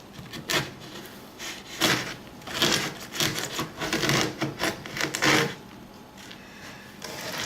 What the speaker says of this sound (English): All I gotta do is just take the scraper and it pretty much lifts up.